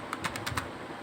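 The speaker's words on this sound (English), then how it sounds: "I just go to this command prompt and type the IP of" A short burst of five quick keystrokes on a computer keyboard, faint and close, with no talking.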